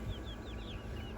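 Five backyard chicks chirping in a quick run of close, high peeping calls over a steady low background hum.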